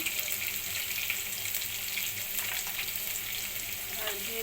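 Onions, green chillies and salt dropped into hot oil in a pan hiss in a steady, dense sizzle with faint crackles throughout, close and even, with no one speaking.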